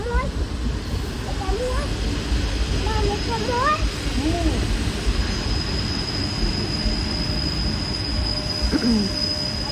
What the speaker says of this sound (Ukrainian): До речі, поїзд їде, але не наш це. До Лісабону поїзд їде.